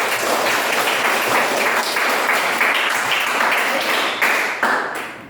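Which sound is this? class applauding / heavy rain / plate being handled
class applauding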